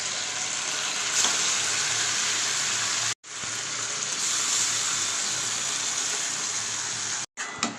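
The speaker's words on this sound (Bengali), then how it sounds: "এইবার এই তেলের মধ্যেই আমি এই যে গোটা জিরে আর গোটা গরম মশলা ফোড়ন দিয়ে দেবো" Whole cumin seeds and whole garam masala spices crackle and sizzle in hot oil in a pan while a goat curry is being cooked, a loud, steady frying hiss broken by two brief dropouts.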